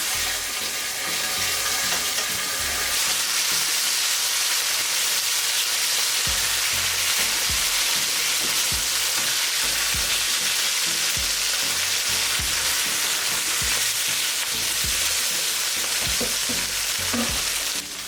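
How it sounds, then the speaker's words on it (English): Pork chops fry in a frying pan with a loud, constant sizzle and crackle, close and steady throughout, with no voices. "put the frying pan on, and now I will be frying the pork chops"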